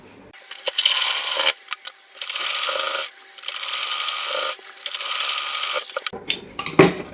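Sewing machine stitching a salwar runs in several bursts of steady whirring, each a second or so long, separated by short pauses, close and fairly loud, ending with a few clicks and handling knocks.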